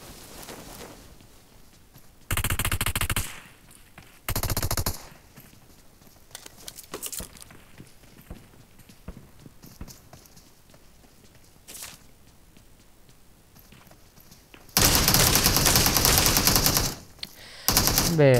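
Shotgun fire in PUBG Mobile on the Livik map, with several loud, sharp blasts in separate bursts spread across the clip and soft footsteps and movement in between.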